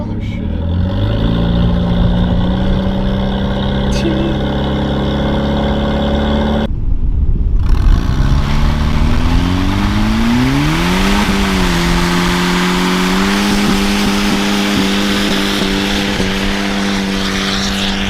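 Car engine revving hard during a burnout, a loud close droning roar with rising and falling pitch, a sharp cut near the middle, then climbing again and holding at high revs, with people talking underneath.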